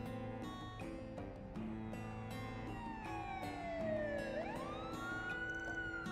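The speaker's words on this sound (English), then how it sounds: "A police siren?" A police siren in the video game Trails through Daybreak II, a wailing tone that sweeps down and then back up over an ongoing musical score, moderately loud, with no voices.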